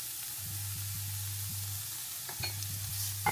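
Dried tangerine peel, chili strips and fermented black beans being stir-fried in a wok, a steady soft sizzle under intermittent scraping strokes of the spatula and a few light clinks, with no one talking.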